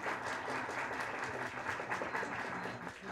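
Seminar audience applauds after a talk on phasing out HCFCs, a dense, even wash of many hands clapping from a mid-distance hall, sustained without break and with no speech over it.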